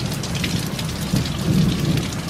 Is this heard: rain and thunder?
yes